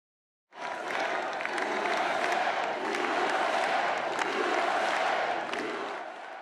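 A large crowd of supporters cheers and applauds at Donald Trump's 2024 election victory speech, a dense, continuous roar of clapping and shouts that starts abruptly and holds steady at full strength.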